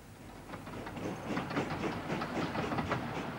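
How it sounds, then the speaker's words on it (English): A train runs along the railway between Jaffa and Jerusalem, giving a steady, rumbling roll with repeated rhythmic clatter from the wheels and a hiss through the upper range, holding a fairly constant level for a few seconds with no voices. "a visitor to the Holy Land at that time would have been able to make the journey from Jaffa to Jerusalem by train."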